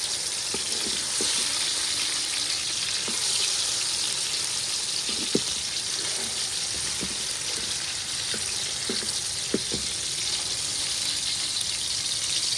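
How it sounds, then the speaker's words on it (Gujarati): Continuous crackling sizzle of tomatoes frying in oil, even and fairly loud throughout, with a few faint utensil taps and no talking. "આપણે ટમેટાને થોડાક તળાવવા દઈશું"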